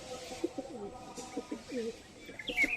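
A high flyer pigeon gives a run of low, throaty coos in a steady pulsing rhythm close by, followed by a short higher chirp near the end, with no talking.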